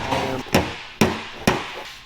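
Hammer-and-dolly work tapping down small high spots on a steel body panel being readied for gold paint: three sharp metallic strikes spaced about half a second apart, close and fairly loud, with no talking.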